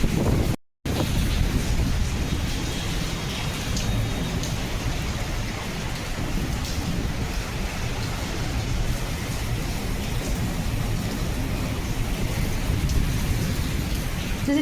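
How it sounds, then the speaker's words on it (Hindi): Heavy rain pours steadily and loudly, with deep rumbles of thunder rolling beneath the downpour and gusts buffeting the microphone. "बारिश हो रही है, बादल बादल चमक रहा है।"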